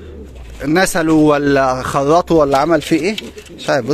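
A domestic pigeon, a stray bird that had been lost, coos in soft repeated throaty calls nearby while someone talks over it.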